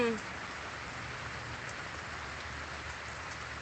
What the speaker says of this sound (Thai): แต่ว่าฝนตกนะคะ